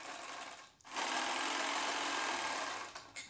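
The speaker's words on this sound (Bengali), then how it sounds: "এইখানে সেলাই করে জয়েনিং করে দিচ্ছি আমি" A sewing machine runs a steady stitching burst while joining the side seam of a bra-cut blouse, starting after a brief pause and stopping near the end, loud and close with no talk.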